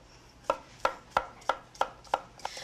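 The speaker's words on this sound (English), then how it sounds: "now we'll cut this zucchini down into half-inch cubes" A knife chops zucchini into half-inch cubes on a cutting board: seven or eight crisp, evenly spaced chops, close and clear, over a quiet background with no talking.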